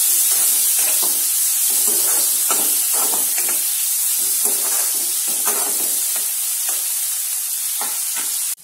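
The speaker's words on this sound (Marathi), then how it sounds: "याच्यात टमाटर टाकून देऊया। याला पण परतून घेऊया।" Chopped tomatoes sizzle in a pan with besan and capsicum, a constant loud hiss broken by repeated scraping stirs of a spatula, close and without talk.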